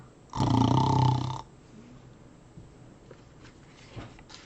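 A single loud, rasping snore-like rumble imitating a bear, made by a voice, lasting about a second, followed by quiet.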